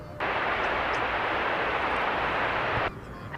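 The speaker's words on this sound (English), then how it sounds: "737-800. About to land now from San Francisco." A Boeing 737-800 landing after a flight from San Francisco, a broad steady engine roar that starts abruptly, holds loud for nearly three seconds, then cuts off to a quieter rumble.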